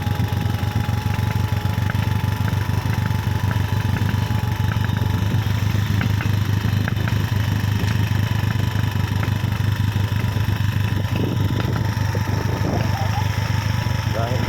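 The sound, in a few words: motorboat engine running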